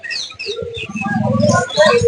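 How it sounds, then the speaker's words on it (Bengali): Pigeons coo in a low rolling burst amid chirps at the crowded Mirpur bird market in Dhaka, Bangladesh, close and loud over a short moment. "মিরপুর হাট একটি জমজমার হাট বাংলাদেশের সবচেয়ে বড় পাখির হাট"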